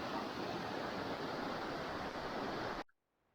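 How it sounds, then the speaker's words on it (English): A farm creek running high after heavy rain rushes in a dense, steady roar that holds evenly before cutting off abruptly near the end. "The creek is rolling."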